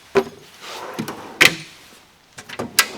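A drawer in an autobody shop tool box slides and clunks, with several sharp metallic knocks and rattles of stored buffing and air tools spread over a few seconds, close and fairly loud, with no speech.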